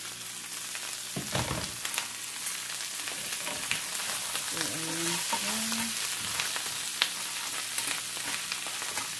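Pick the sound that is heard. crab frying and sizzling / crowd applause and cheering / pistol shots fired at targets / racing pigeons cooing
crab frying and sizzling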